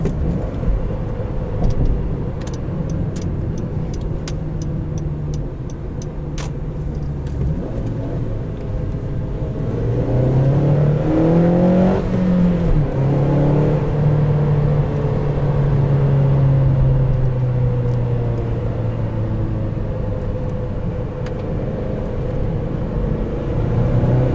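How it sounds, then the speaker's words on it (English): A 2012 Honda Civic Si engine revs from inside the car, its pitch climbing sharply to a high whine, then holding a steady loud drone over constant road rumble. No one speaks. "You can really hear that VTEC scream."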